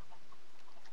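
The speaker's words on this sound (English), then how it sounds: "We've got chickens everywhere." Minecraft chickens cluck in quick, soft bursts against a constant noisy background of game audio.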